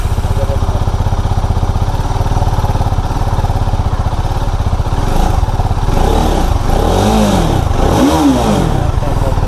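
A TVS Apache RR 310 motorcycle engine runs loud and close, a steady rumbling idle rising into a couple of sharp revs near the end.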